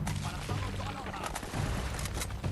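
Gunfire from several enemies in the Uncharted video game, a dense, continuous crackle of shots and impacts with game music and effects filling the background throughout.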